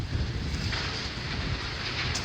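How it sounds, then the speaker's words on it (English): Gusty wind buffets the microphone at a school demolition site on a cold day, a continuous broadband rush with fluctuating intensity and no voices. "Out of all the days, it has to be windy."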